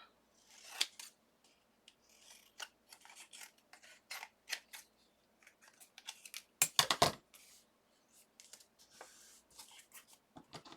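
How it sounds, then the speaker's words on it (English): Scissors trim a mixed-media paper tag with a series of crisp snipping cuts in irregular bursts, close and quiet, including a louder cluster of cuts partway through, with no talking. "All right, just going to give this a trim"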